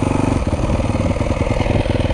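A Yamaha YZ250F dirt bike engine revs in a steady, loud, pulsing drone close by, fitted for woods riding with an auto clutch or flywheel weight, with no voices over it.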